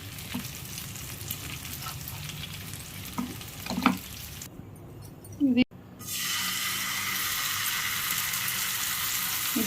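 Fish frying in oil gives a faint crackle that swells into a louder, steady sizzle partway through, after a brief quiet gap and a sharp clatter.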